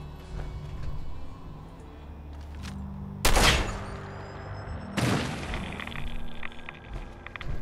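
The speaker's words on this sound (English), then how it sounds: "Who is shooting?" Gunfire in Fallout 4 comes as two sharp, loud blasts a couple of seconds apart over a low rumbling background, each trailing off in a brief ringing decay.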